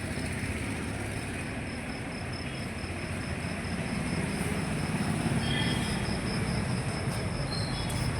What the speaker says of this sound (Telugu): మీరు చూస్తున్నారు గుంటూరు రైల్వే స్టేషన్